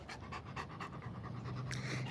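A big protector-type dog panting rapidly in the heat, a steady run of short, breathy pants close to the listener with no talking.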